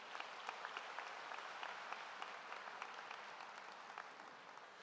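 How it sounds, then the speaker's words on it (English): A high school graduation crowd gives a sustained, even round of applause, a dense, distant-sounding patter of many hands holding steady for about five seconds. "we could give all of them a round of applause for their leadership"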